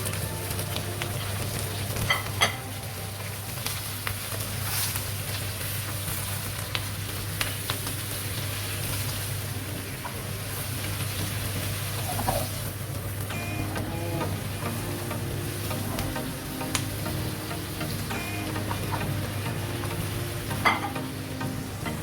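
Capsicum stir-frying in a pan with chicken for sweet and sour chicken pineapple, a steady sizzle with scattered scraping stir clicks, close and continuous, with a low steady hum beneath.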